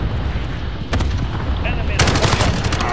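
Rapid bursts of AUG automatic gunfire in the shooter game Call of Duty Modern Warfare, loud and close, with a sharper, denser volley starting partway through over constant game background noise.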